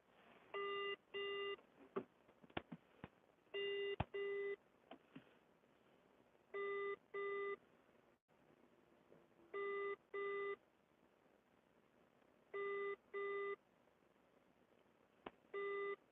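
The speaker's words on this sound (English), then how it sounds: "It's ringing." A telephone call's ringing tone repeats in regular paired bursts of electronic beeps with quiet gaps between them. It is heard alone and is fairly faint.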